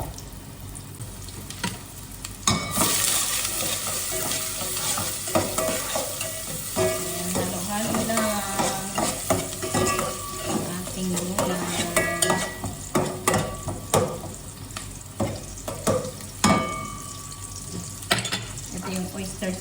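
Garlic and onion sauté in a hot pan for water spinach, a steady close sizzle with frequent stirring scrapes and clinks throughout, plus brief running water in the background.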